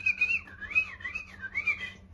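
Someone whistles a bird-call imitation: warbling phrases that rise and fall in pitch, repeated about three times with brief dips between them.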